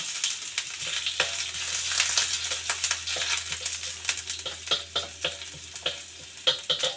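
Ginger dropped into hot oil in a wok crackles and spits in a busy stream of sharp pops and sizzling bursts, close and lively, growing more irregular toward the end, with a low hum beneath and no talk.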